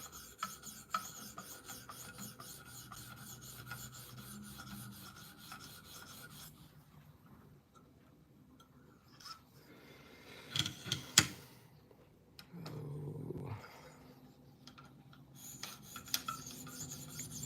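A Spyderco Native Chief knife in M4 steel is sharpened with quiet, steady rasping strokes. They run continuously at first, then break into sparser, louder scrapes later on, with no talking.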